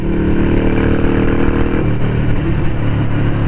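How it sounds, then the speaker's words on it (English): A Harley-Davidson Sportster 883 Iron motorcycle engine drones loudly and continuously close by, its pitch shifting slightly partway through as the rider accelerates. "I can't even hear myself because of the engine."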